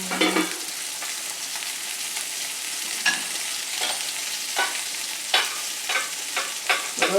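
Branzino pan-searing in a frying pan hisses with a steady bright sizzle, punctuated by repeated brief spitting pops and crackles, close up and without talk.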